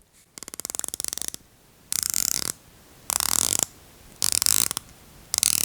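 Zodiac watch bezel turned by hand in several bursts, each giving a quick run of fine ratcheting clicks, close and crisp, with short quiet pauses between turns.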